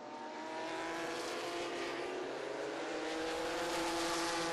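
Stock car racing at Lonesome Pine: a steady, distant roar of race car engines drones on without a break, fairly faint and even in level, with no voices.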